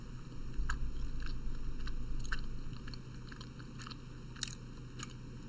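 Someone bites and chews an MRE cinnamon roll close to the mic, with a series of crisp, irregular crunches and moist chewing sounds over a low steady hum.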